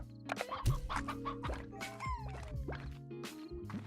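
Chickens cluck in the Slime Rancher video game, with several bursts of clucking layered over busy game music and effects. The clucks sit close and fairly loud throughout.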